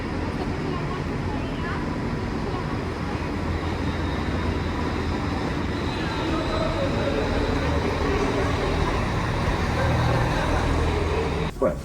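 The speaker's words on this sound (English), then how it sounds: "we're on the train to Chester." A steady, low rumbling drone of a moving train carriage on the way to Chester fills the whole stretch, with constant rattling and muffled background voices underneath.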